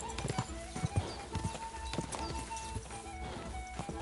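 Horse hooves clip-clop in Kingdom Come: Deliverance II, a quick irregular trot of close, sharp hoofbeats running throughout, with in-game background sound underneath.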